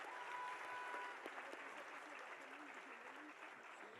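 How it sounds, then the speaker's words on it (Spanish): A church congregation applauds in a steady, dense wash of clapping that fills the room throughout, with faint voices and a brief tone mixed in beneath. "denle un aplauso al Señor"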